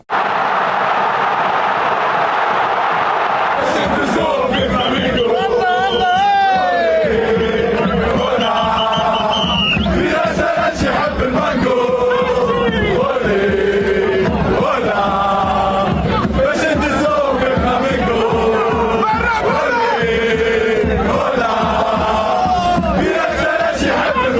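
Espérance football supporters chant together as a dense, loud crowd, voices swelling in rhythmic sung phrases that carry on without pause.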